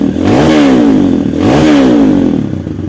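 Kawasaki KLX motorcycle engine with a rough starter, after a bearing replacement, running loud and steady with two rising revs, one near the start and another around the middle, close up with no talking.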